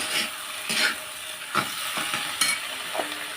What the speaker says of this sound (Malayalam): നമുക്ക് 2 സ്പൂൺ തൈര് ഒഴിച്ച് കൊടുക്കാം. എന്നിട്ട് നമുക്ക് ഇളക്കി ചേർക്കാം.